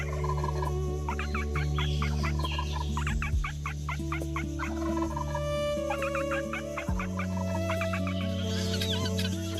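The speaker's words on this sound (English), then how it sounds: "Turkey." Turkeys gobble and cluck in bursts of rapid, warbling calls, loud and close, repeating across the stretch with short pauses between, alongside other fowl clucking.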